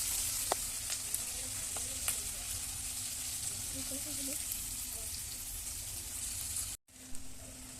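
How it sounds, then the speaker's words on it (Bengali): Onions fry in a pan in a mini kitchen ahead of a spicy crab curry, a steady close sizzle with a few faint clinks of stirring, continuous until a brief cut near the end. "চলো পেঁয়াজগুলো মোটামুটি ভাজা হয়ে গেছে"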